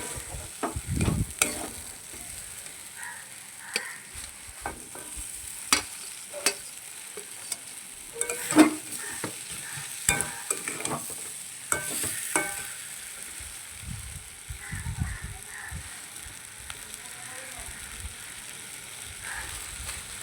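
Pointed gourd (potol) frying in a pan sizzles steadily up close while a utensil scrapes and clinks against the pan as the pieces are stirred.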